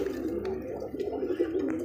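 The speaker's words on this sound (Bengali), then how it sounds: "আমার দেখতে পাচ্ছেন চমৎকার এক জোড়া খাকি কবুতর" A pair of khaki high-flyer pigeons coo softly and continuously at close range, a low, throaty murmur that rises and falls without pause.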